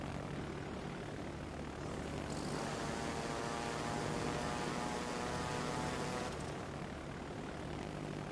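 Droning bomber aircraft engines in a PS4 naval combat game, a steady propeller roar with a low hum that swells in the middle, continuous and fairly close, with no talking.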